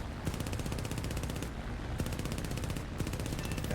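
Rapid, steady machine gun fire from a Gloster Gladiator biplane in War Thunder, loud and close, coming in three long sustained bursts with short gaps between them and no talking.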